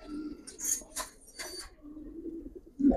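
Giribaz pigeons, silver with black necks, coo softly and close by in a few low, throaty rolling phrases, with short pauses and faint chirps between them.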